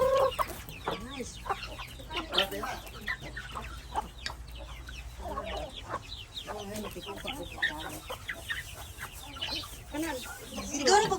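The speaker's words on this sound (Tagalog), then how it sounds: "Ah, this is our chicken, ha?" Native chickens cluck repeatedly and fairly close by in a busy, chattering stretch, with a person talking now and then among them.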